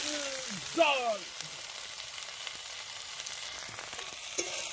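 Ginger garlic paste and spices fry in a pan with a steady, low hiss of sizzling throughout, after a brief voice at the start and an occasional clink of stirring.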